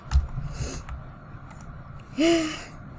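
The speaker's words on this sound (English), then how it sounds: "I got a stuffy nose today. Sniffle." A single short sniffle through a stuffy nose, close and fairly soft, comes after a faint breathy sound against a quiet indoor background.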